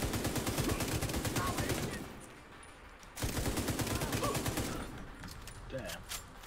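Rapid automatic gunfire in The Division 2 comes in dense, steady bursts. It fires loudly for about two seconds, pauses briefly, then resumes in a second heavy volley before tapering into scattered shots.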